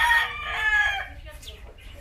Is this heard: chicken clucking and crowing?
yes